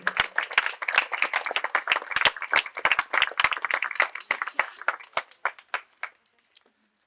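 An audience at a medical college quiz event claps for a prize winner, a dense burst of applause from a small crowd that thins out and fades to a few last claps.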